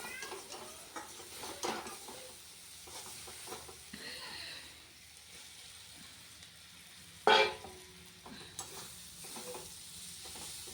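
Prawns sautéed and stirred in a wok that keeps sticking to the bottom, with a steady sizzle under repeated scraping strokes and one sharp metallic clank partway through, fairly close.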